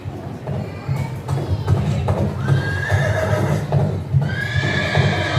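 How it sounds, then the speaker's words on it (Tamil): Loud, close horse whinnies ring out several times over the thud and clatter of hooves, a busy, energetic scene of horses on the move. "திடீரென குதிரை சத்தம்."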